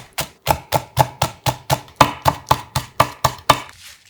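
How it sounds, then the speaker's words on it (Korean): A knife slices green onion leaves on a cutting board in quick, even chops, about fourteen sharp knocks at a steady pace, close and clear with no voices. "대파잎 약간은 송송 썰어주세요"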